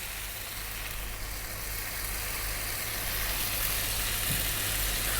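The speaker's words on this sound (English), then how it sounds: "we're going to get 500 ml of coconut milk. In that goes." Coconut milk, 500 ml, poured into a hot pan for a fish curry sets off a steady, broad sizzling hiss that stays even and close for several seconds, with no voices over it.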